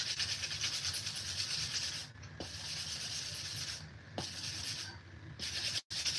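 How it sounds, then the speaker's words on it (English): Sandpaper rubbed steadily over a glittered tumbler cup, a continuous close gritty rasp in long strokes with a few brief pauses between passes. "let me get a paper so we can sand real quick"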